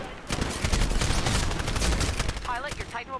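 Rapid, sustained automatic gunfire from the video game Titanfall, a dense continuous burst of shots filling most of the clip before tapering off, with brief electronic chirps near the end.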